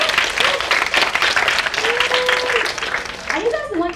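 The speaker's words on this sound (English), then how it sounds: "Can you give them a round of applause?" Applause from a studio audience at a behind-the-scenes media talk, a brief burst of clapping mixed with voices and a few whoops, moderately close.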